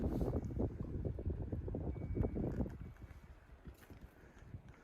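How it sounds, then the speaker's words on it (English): Blustery wind gusts buffet the microphone outside on a boat during a snowstorm, a loud, rumbling roar that eases slightly toward the end, with no voices. "Obviously still quite blustery."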